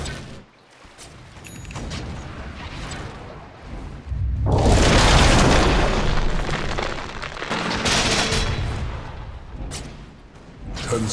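In Dota 2, an attack on a tower brings heavy booming impacts and rumbling blasts that swell partway through and carry on loud, mixed with clanking game effects.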